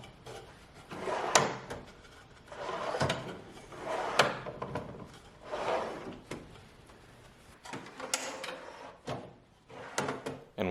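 Plywood drawers on paired vertical drawer slides in a router table cabinet being pulled open and pushed shut repeatedly, each stroke a soft rolling slide ending in a wooden knock, close and alone.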